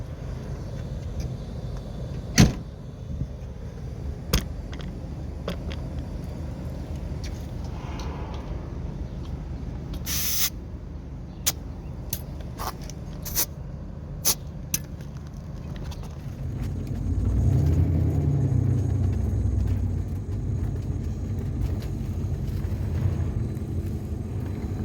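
An engine idles low and steady in the rain, with a louder rumble swelling near the end, and sharp clicks and knocks scattered throughout the whole clip.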